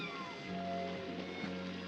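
A cat gives a short meow, heard fairly close over quiet background ambience, with no talking.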